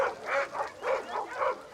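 Search-and-rescue dog named Ryan giving a series of four or five rhythmic, mid-pitched barks at close range, with no talk.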